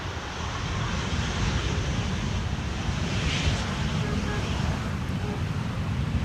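A Tarom airliner on Flight 361 from Bucharest arrives on runway 18R at Schiphol, heard as a steady, broad roar of jet noise mixed with wind rumble, sustained and fairly loud throughout.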